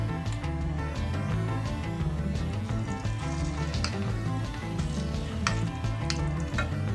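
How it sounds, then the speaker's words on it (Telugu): Sizzling hot tempering in a pan as onion-tomato chutney is added and stirred in, a steady close crackle and hiss with brief scraping spoon sounds, no talking. "ఇప్పుడు తాలింపులో ముందుగా పట్టించుకున్న ఉల్లిగడ్డ పచ్చడిని తాలింపులో వేసుకుంటున్నాను"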